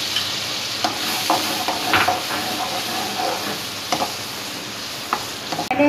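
Tomatoes with ginger and garlic paste sizzle steadily in a pan over low heat for a chicken biryani, a continuous close frying hiss broken by occasional scraping stirs, with no talking.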